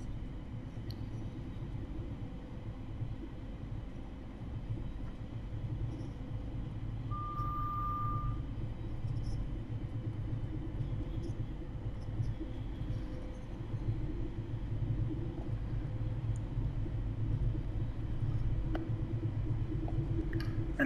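A train rumbles steadily in the Train Sim World 4 video game, a continuous low drone of wheels and motors with a brief warning tone partway through, without any talk.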